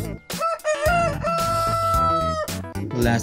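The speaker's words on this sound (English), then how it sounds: "Rooster." A rooster crows loudly and up close, a long drawn-out call with a few clucks trailing after it.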